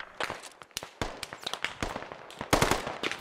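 Gunfire in the military shooter Squad, sharp irregular cracks and rapid bursts of shots, some near and loud, others more distant, firing sporadically over a few seconds.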